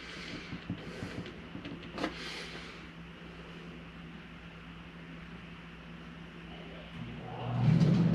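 An RV rooftop air conditioner on an Eagle HT 29.5 BHDS travel trailer starts up after soft clicks and a low hum, swelling into a loud, steady blowing rush near the end.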